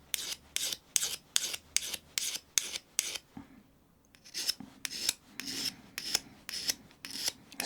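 A blunt drill bit is sharpened against a coarse diamond plate, producing close, rhythmic rasping strokes, about a dozen back-and-forth scrapes with a brief pause partway through, and no voices.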